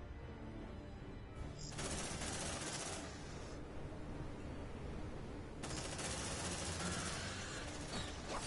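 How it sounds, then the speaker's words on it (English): Sustained suppressive gunfire in the Aliens: Dark Descent video game, a loud, continuous automatic-weapon roar that briefly thins out mid-stretch before surging back to full intensity. "Suppressive fire!"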